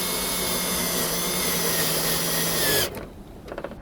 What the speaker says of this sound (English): put your drill into clockwise, like you're tightening something. These screws are gonna go into the metal all on their own.